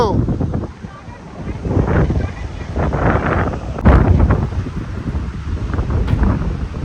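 Strong seashore wind buffets the microphone in heavy, uneven gusts that roar throughout, with people talking underneath.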